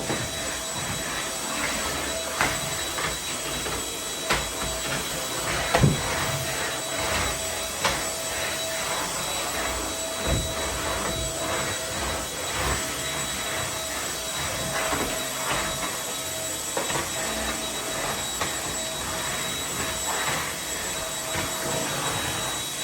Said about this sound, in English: And now I'm just gonna kind of vacuum the crumbs a little bit.